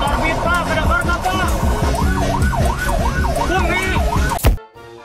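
An ambulance's wailing siren rises and falls repeatedly amid traffic noise, loud and close, then cuts off abruptly near the end.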